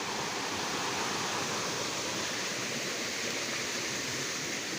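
A swollen mountain stream, running high after monsoon rains, rushes steadily with a dense, continuous roar of water, close and unbroken, with no voices present.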